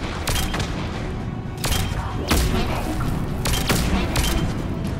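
Grenade blasts and gunfire in the video game Mass Effect 3: a steady roar of combat noise punctuated by several sharp bursts at irregular intervals.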